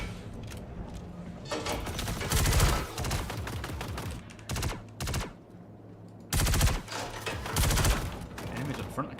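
Bursts of rapid automatic gunfire in Star Citizen, several loud, close volleys separated by short pauses, with faint talk between them.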